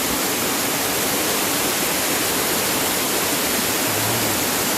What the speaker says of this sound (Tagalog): Lakas ang agos ng tubig oh.